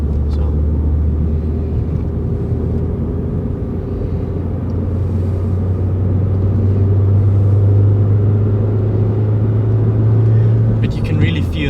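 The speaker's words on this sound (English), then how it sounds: "For example, this section just now, I was completely full throttle." A 2012 Suzuki Swift Sport petrol hot hatch pulls at full throttle, its engine a steady, loud low drone and road rumble that holds throughout, with a voice talking over it.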